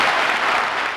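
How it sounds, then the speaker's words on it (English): Cheers and applause fill the Geary County Convention Center, a loud, steady wash of clapping from a large crowd that goes on without a break. "cheers, applause, and hope filled the Geary County Convention Center"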